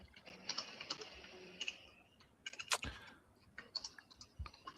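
Faint, irregular clicks of typing on a computer keyboard come in scattered bursts over a quiet room hum, with no voice.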